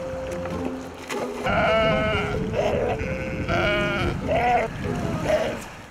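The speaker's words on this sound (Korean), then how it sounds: "그런데 갑자기 몇 마리 염소들을 물에 빠뜨리기 시작하는데요." Goats bleat repeatedly in loud, close, wavering calls as they are put into a cold glacial stream on the Pamir plateau, over a rushing water background.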